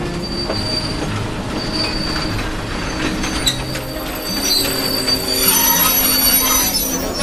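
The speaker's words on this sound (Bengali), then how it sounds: "ময়নাপুর ছোট্ট স্টেশনে একখানা রেলগাড়ি সশব্দে এসে ভেঙে পড়ল" A train rumbles along the rails into a small station with high metallic wheel squeals, loud and continuous, the clatter and screech building as it slows.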